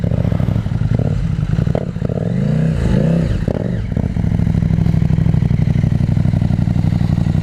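A 2021 KTM 890 Adventure motorcycle revving hard while riding, its loud engine note rising and falling through quick throttle blips and gear changes before settling into a steady drone.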